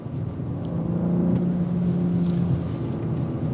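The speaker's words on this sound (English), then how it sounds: "I like the exhaust note that filters in." A 2024 BMW X4 M Competition engine hums low and steady while driving, a deep exhaust drone swelling slightly mid-way, with road noise around it and no talking.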